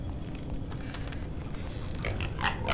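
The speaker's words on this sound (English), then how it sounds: "Get out of the way, pig." Pig grunts from a video game, a few short snorting calls over a steady busy game soundscape, with brighter bursts toward the end.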